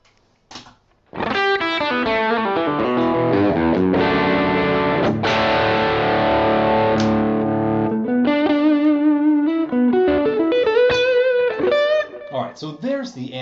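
Overdriven electric guitar played through an amp and a Mesa cab clone: gainy chords and single-note runs, loud and continuous for over ten seconds, with fuzzy distortion and a brief pause before the playing starts.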